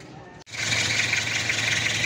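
A car engine cranks and catches, then settles into a steady idle with a continuous hissing, rubbing whine from a noisy fan belt or bearing, close and moderately loud.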